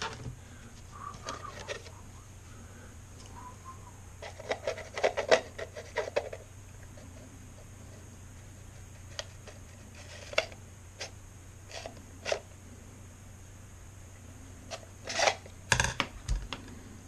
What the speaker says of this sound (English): I'm going to use my X-Acto knife to get all the way to the bottom